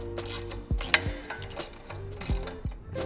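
A socket wrench with a 4mm socket adapter ratchets off a bolt on a rear rack of an e-bike, giving quick clicking pawl bursts with a few metallic clanks, close and fairly loud, no speech.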